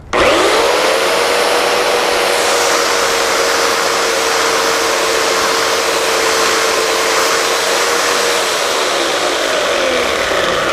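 Chainsaw making a horizontal cut into a tree, loud and steady with a constant high engine whine that holds for about eight seconds and then winds down near the end.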